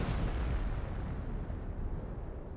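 Artillery barrage explosions in a war video game roll together into a dense rumbling boom, loud at first and then easing slightly as it sustains for a couple of seconds with no talk.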